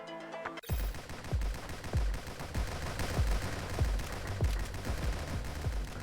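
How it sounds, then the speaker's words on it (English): Rapid bursts of assault rifle fire in a video game, a steady rhythm of sharp, loud shots repeating across the whole stretch without talk. "Assault rifle."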